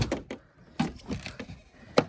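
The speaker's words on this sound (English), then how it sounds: "My door's frozen shut." A car door frozen shut is forced open on a cold morning: a few dull thunks and creaks in separate bursts, close and moderately loud, with quiet pauses between.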